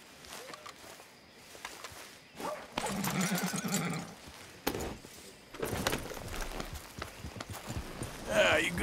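Horse hooves clip-clop in Red Dead Redemption 2 free roam, a rhythmic clatter of steps coming in bursts between pauses, mixed with other game sounds and character voices speaking over it.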